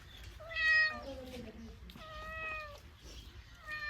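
A cat meows several times in a rural village yard, drawn-out tonal cries in three bursts, fairly close, over faint outdoor background noise.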